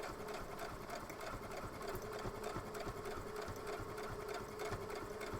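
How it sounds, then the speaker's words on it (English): A sewing machine runs a steady straight stitch across a fabric panel for a project bag. The motor whirs at an even pace, close and continuous, with no talking. "straight stitch from one edge of the panel to the other side,"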